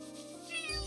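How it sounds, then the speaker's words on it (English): A cartoonish cat meows twice in quick succession in the video game Chained Echoes, close and clear over soft background game music, with no talking. "Oh, you're a happy cat."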